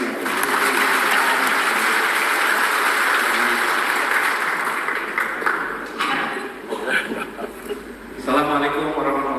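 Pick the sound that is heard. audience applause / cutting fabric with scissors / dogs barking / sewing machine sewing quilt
audience applause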